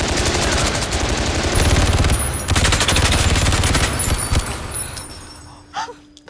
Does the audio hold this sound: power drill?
no